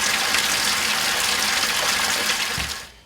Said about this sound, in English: I'm gonna proceed with filling the bathtub with some water so it'll give it some weight